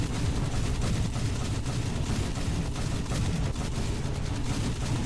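Secondary guns on the British cruiser HMS Enterprise firing in a War Thunder naval battle make a dense, continuous barrage of booms and rumbling blasts at high, steady loudness.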